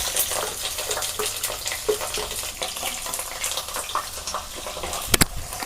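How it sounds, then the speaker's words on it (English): Curry leaves and a chopped onion dropped into hot oil set off a dense, continuous crackling sizzle, fairly loud and close, with a couple of sharp pops near the end. "Now the oil is heated well, so I'm adding curry leaves to it, and I'm adding 1 onion."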